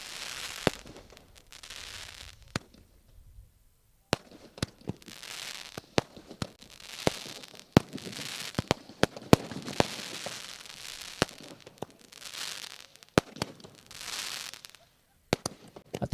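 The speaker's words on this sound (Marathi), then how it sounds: "फटाक्यांची आतषबाजी." A fireworks display at the opening ceremony of the Bhiwandi Premier League 2025 cricket tournament: sharp bangs and crackling bursts come at irregular intervals, some distant and some louder, over a low background.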